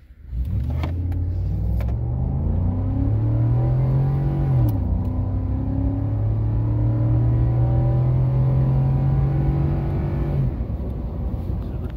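A stock Ford F-150 XLT crew cab 4x4 with a 5.0 V8 pulls hard from a stop, engine note climbing steadily through a gear with a brief dip at a shift, loud and continuous from inside the cab with windows down.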